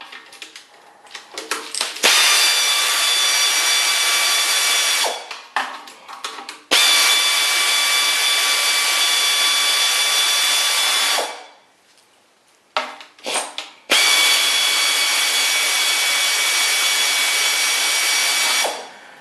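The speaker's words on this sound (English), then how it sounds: "Now while that's draining, I can start taking my oil pan bolts out." An air tool whirs in three long bursts of several seconds each as oil pan bolts come out of a 1962 Studebaker 289 engine, loud and close with short gaps and clicks between.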